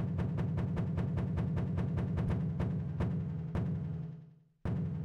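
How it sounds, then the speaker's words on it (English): A heartbeat sound effect from the video game Ocarina of Time pulses in fast, regular thumps over a low droning tone. The beats slow and grow sparser before the drone fades out and cuts back in. "That's the sound of his heartbeat."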